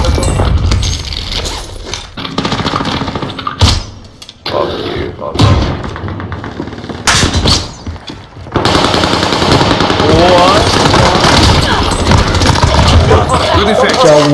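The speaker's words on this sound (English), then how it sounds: "It's a sniper." Sniper and automatic gunfire in a video game shooter, loud rapid bursts with heavy thuds and booms, continuous dense firing in the later half, with a voice talking over it.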